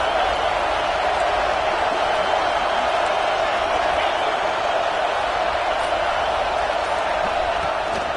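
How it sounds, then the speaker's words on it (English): Dense, steady stadium crowd roar at an LSU versus Alabama college football game, a constant wash of fan noise holding at one level throughout with no distinct voices breaking through. "Fans are bringing the noise on first and goal."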